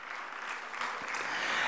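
An audience at an awards gala claps for gold medal winners, a continuous roomful of applause that holds steady and swells slightly toward the end.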